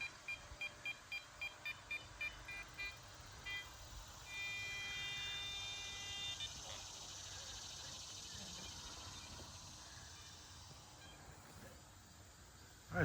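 A metal detector gives a run of short, evenly spaced beeps while relic hunting at an abandoned house in central Ohio, followed by a sustained tone and soft outdoor background with faint talk.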